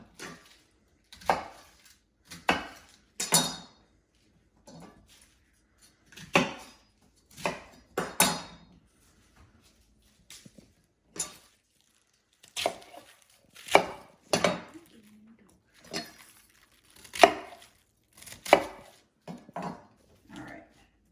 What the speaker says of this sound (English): then we're gonna cut the core out